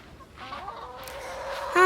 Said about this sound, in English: So I'm going to show you these chickens.